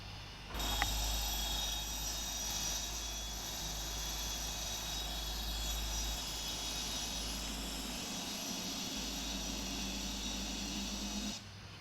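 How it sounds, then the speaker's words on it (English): Simulated engines of a PMDG 747-8F freighter spool up during auto-start in the Prepar3D flight simulator, a steady loud jet roar and whine held evenly for about eleven seconds, with no talk. "Okay, so now we have the engine auto start, the fuel flow is injected, so now we have EGT on engines 3 and 4."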